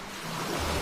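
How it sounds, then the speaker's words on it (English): Ocean waves surge as a broad, continuous rush of surf that swells louder over the short span, with a wind-like roar. "Ocean waves."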